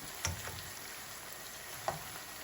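Chicken pieces coated in a spiced batter paste fry in hot oil with a steady, close hiss and sizzle, broken by two brief clicks, with no voices.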